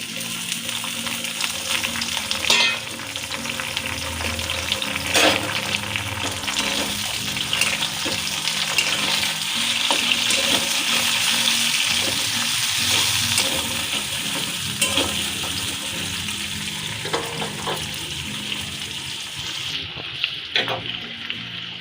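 Papaya, potato and green banana fry in hot oil in a pan with spices, a steady loud sizzle with occasional stirring scrapes, no one talking.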